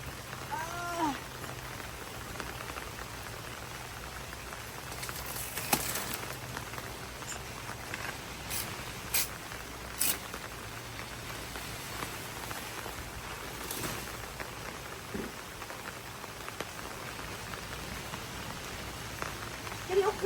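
Rain falls steadily on a farm, a soft, even patter with occasional louder drops, faint and constant throughout with no clear talk.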